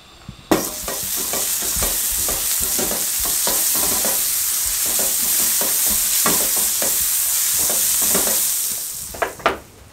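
Egg-coated toast slices fry in butter in a hot pan, a steady close sizzle running throughout with repeated scraping and stirring clicks from a utensil, no voices.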